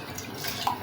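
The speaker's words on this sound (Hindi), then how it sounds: "अब इसके अंदर भी पानी डाल के" Water pours briefly into a large cooking pot while chana pulao is being made, a short splashing trickle with a small bright drip near the end.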